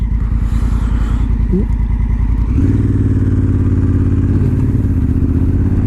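A Honda Africa Twin in D mode rumbles loudly up close, its engine pulsing evenly, then the note shifts to a fuller, steadier throb as the bike accelerates through a gear change.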